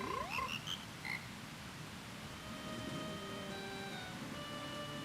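Deep, resonant frog croaks in the game Majora's Mask, a few bouncy calls at the start, then a soft rumbling bed with thin sustained tones beneath, no talk.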